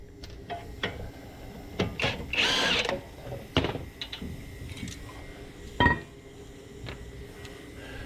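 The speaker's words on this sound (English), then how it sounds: "finish removing the bolts with my impact gun here" An impact gun takes out the front brake caliper bolts on a 2012 GMC Yukon, firing in short, close rattling bursts between sharp metallic clanks and ticks.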